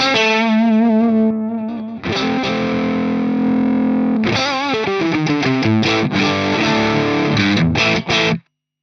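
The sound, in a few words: guitar through Mud Killer overdrive with comp switch right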